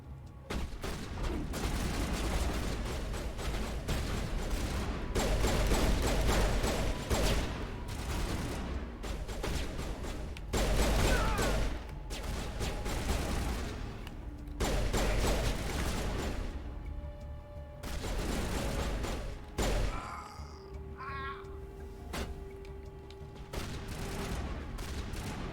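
Video-game gunfire rattles in dense, loud bursts of rapid shots with short gaps. The volleys thin out near the end, leaving a few sparse shots and faint electronic tones.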